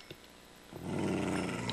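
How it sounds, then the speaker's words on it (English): A Minecraft wolf growls in a video game, a low rumbling growl that starts partway through and continues steadily and fairly loud to the end, with no talk over it. "Stop growling at me, dog."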